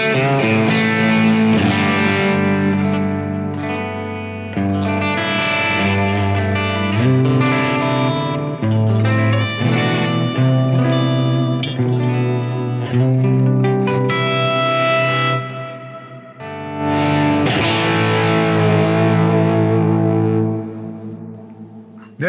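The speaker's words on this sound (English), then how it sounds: "Let's try the clean boost variation." An electric guitar plays chords and riffs through a Klon Centaur-style clean boost pedal, a bright, slightly driven tone ringing out with short pauses between phrases.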